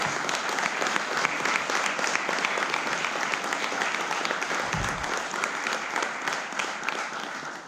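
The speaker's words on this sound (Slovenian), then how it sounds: "zato vas prosim za en velik aplavz za tele naše mlade šampione" A large audience at a kayaking awards event applauds young kayak champions with a long, steady, loud round of clapping that fills the room without pause.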